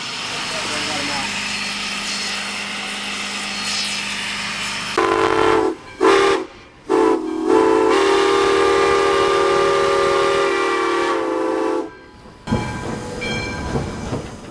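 A train rolling along the track, its steady rumble and hiss broken by loud whistle blasts, with people talking nearby.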